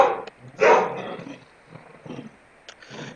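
Dogs bark in a few loud, rough bursts near a home setting, with short gaps between the barks and no talk over them.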